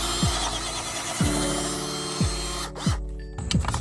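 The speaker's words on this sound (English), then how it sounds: "we're gonna take that drill bit and then just kind of swirl it around a little bit to make it a little bit oversized" A drill bit swirled in an existing hole to enlarge it for a rivnut on a Toyota Corolla under tray, steady whirring with five repeated descending pitch sweeps as pressure is applied, close and moderately loud, no voices.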